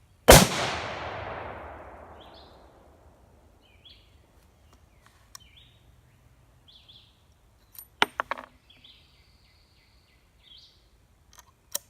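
A single loud rifle shot from a CVA Compact Hunter in .308 firing Hornady 150 grain AMAX, a sharp crack with a long fading echo, followed by quiet outdoors with faint bird chirps and a few small clicks.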